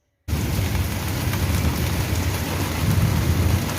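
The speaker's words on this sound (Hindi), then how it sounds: "बहुत ज़ोर की बारिश शुरू हो गई, बहुत ज़ोर की, वो भी ऐसे ना बिजली कड़क रही है ज़ोर ज़ोर से।" Heavy rain pours during a thunderstorm, a dense, loud, continuous roar that begins suddenly after a brief silence, with a deep rumble of thunder building underneath and no voices.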